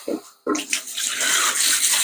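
Rainwater pours into a garden flower bucket, a steady rushing splash after a brief gap, close by and continuous.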